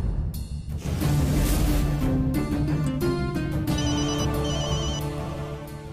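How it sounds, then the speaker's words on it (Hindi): A telephone plays a melodic ringtone in a household scene from a Punjabi television drama, loud and close, its bright tones repeating for several seconds before easing slightly, with no talk over it. "आ गया फोन।"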